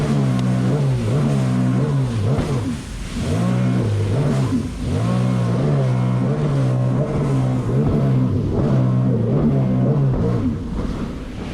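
A Sea-Doo Spark Trixx jet ski engine, recently tuned, revs hard in repeated surges, its loud buzzy mid-pitched drone climbing and dipping in waves with brief throttle lifts between pulls.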